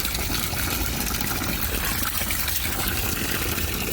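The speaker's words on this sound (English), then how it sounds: "Let's take this hose and fill it up." A hose fills a grease-clogged kitchen drain stack with water, giving a steady, close, broadband rush and gush that runs unbroken throughout with no voices.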